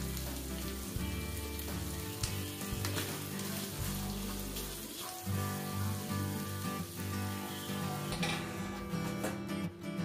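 Snails in garlic butter sauce sizzling over a low flame, a steady close frying crackle that carries on for the whole stretch with small swells and dips, with no voices.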